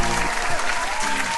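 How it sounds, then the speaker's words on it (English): Loud, dense applause from a live audience at a talk show, bursting out across the whole short moment with a bit of crowd noise and a voice briefly mixed in. "can we just give this man a quick round of freaking, like, applause real quick?"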